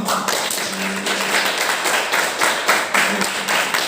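Applause from students at a school seminar, a steady wash of many hands clapping at close range, continuous for a few seconds without talk.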